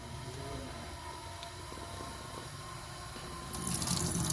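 Tap water runs steadily into a sink while rice is washed for chicken biryani, a continuous close splashing flow that grows louder and brighter near the end.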